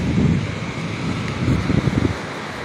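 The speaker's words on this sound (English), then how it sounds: "a little windy today, but nice and soft wind." Soft, steady wind rushes across the microphone at a beach, with a faint low rumble that could be distant surf underneath.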